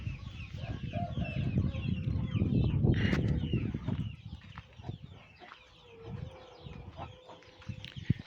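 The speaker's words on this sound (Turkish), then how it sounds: "Evet anaç yer arıyor yumurta yapmak için." A broody hen searching for a nest spot to lay clucks in short bursts amid scuffling and a brief flutter of wings, fairly close, with little talk.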